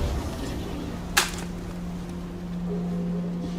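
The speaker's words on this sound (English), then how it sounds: "which is the sound of a branch breaking." A single sharp snap of a tree branch breaking, one brief crack rising out of a quiet, steady background hum and then fading quickly.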